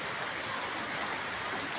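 Rain falls in a steady, soft, even hiss with no distinct drops, faint and continuous for the whole short stretch.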